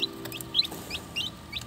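Rhode Island Red chicks in a brooder give soft, high chirps and peeps, several short calls spread across the moment over a low steady background hum.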